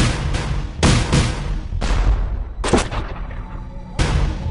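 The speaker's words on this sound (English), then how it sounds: "orders him to fire grape right into the mass of struggling men" Cannon fire of grapeshot in a Revolutionary War battle: four heavy booming blasts at irregular intervals, each with a rumbling decay, loud and close.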